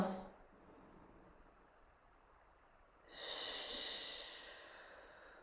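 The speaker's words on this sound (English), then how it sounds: "let's take 4 deep breaths right here." A person takes a deep breath during a guided breathing exercise: a soft, airy inhale close to the mic, then a stronger, longer rush of breath that fades out.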